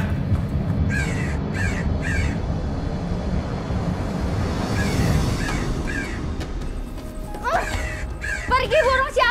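Several crows caw in short repeated bursts over a loud, rumbling background, with voices raised near the end.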